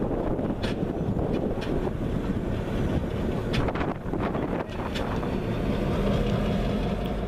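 A pair of diesel locomotives, MDDE 2632 among them, roll along the rails with a continuous heavy low rumble and clanking, partly buffeted by wind noise on the microphone.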